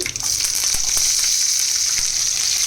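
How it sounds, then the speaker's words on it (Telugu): Food sizzles steadily in a hot pan while the base for millet ponganalu is prepared, a close, even frying hiss lasting throughout with faint stirring taps and no talking. "ఇది కొంచెం ఫ్రై అవ్వాలి."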